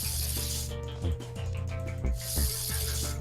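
A spray bottle used in the crime-scene video game CSI: Hard Evidence gives two long, close, hissing spray bursts, one at the start and one at the end, over steady game music.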